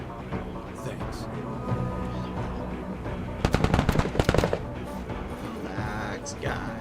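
A firing squad unit opens fire in a video game tournament replay, a dense burst of rapid gunshots in the middle of the clip, loud and close, rising above a steady din of battle sounds before it fades.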